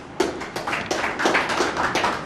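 An audience claps and applauds at a religious debate between Islam and Christianity, a dense, steady patter of many hands filling the room for a couple of seconds.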